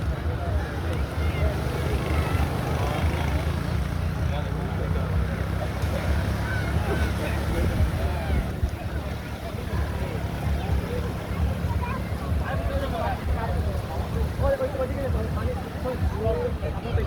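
Sea waves wash steadily onto a beach shore in a continuous roar, mixed with heavy wind buffeting the microphone and faint voices in the background.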